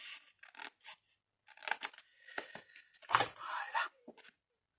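Scissors snip and rustle through paper or card while a piece is cut off for a large document holder, a series of short close cuts and handling sounds in a quiet room.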